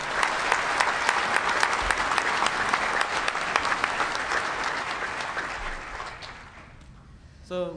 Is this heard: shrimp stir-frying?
no